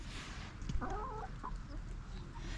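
Backyard chickens cluck in a winter setting with ice on the ground, with one clear close cluck phrase and a few short fainter clucks over a steady outdoor background hiss.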